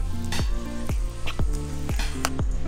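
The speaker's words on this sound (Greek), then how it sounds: "Ανακατεύουμε." A banana breakfast mixture sizzles in a hot pan while a spoon stirs it, with about six distinct scraping strokes at a regular pace over the steady frying hiss.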